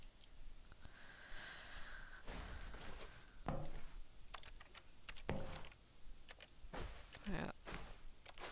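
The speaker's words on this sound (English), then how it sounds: "I'm pressing A on my keyboard" Keys on a computer keyboard clack in quick bursts of taps with short pauses between them, close but moderately quiet over a steady background hiss, no talking.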